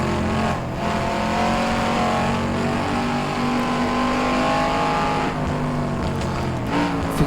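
Shelby Cobra 260 in the rFactor 2 racing sim at Goodwood, its engine droning loud and steady throughout with shifting rev pitch, no talk over it.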